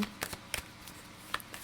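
Tarot cards being shuffled by hand during a reading: a few quick, soft riffling bursts spaced apart across a short, quiet stretch, with no talk over them.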